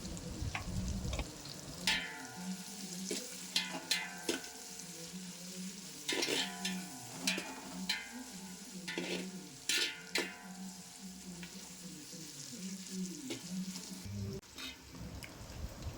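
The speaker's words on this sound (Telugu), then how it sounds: "కట్ చేసి పెట్టుకున్న టమాటాలు కూడా వేసి వేయించుకోవాలి" Tomatoes sizzle and sputter in a hot pan, interrupted by repeated scraping and clanking of a spatula stirring, fairly close.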